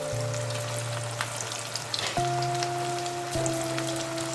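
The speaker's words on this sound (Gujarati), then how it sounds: "હવે આપણે એને તળી લેશું. ફ્રાય પણ કરી શકીએ." Leftover roti patra pieces fry in hot oil with a dense, close crackling sizzle, under a steady electrical hum whose pitch shifts a few times, and nobody speaks.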